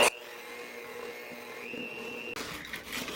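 An electric mixer whirs through cookie dough with egg, vanilla and molasses, a steady close motor drone that briefly cuts out, then resumes with rougher, louder churning.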